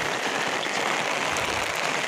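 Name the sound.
heavy rain falling on a river bridge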